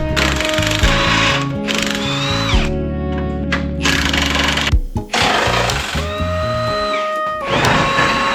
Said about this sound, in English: one of them required some drilling